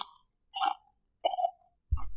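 Crunchy chips are bitten and chewed close to the mic in three short crisp bursts separated by silence.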